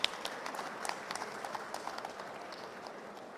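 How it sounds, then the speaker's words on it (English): Applause from a conference audience for the panelists, a thin, distant patter of scattered claps with no voices over it. "please give a thunderous applause to all the panelists sitting over here"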